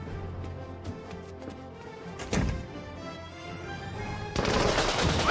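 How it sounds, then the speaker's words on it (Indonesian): Gunfire in a team-based shooting video game, a dense stream of rapid shots with a louder burst near the middle and a heavier volley toward the end, steady and fairly close, no talking. "hal itu mengakibatkan Bob tewas ditembak"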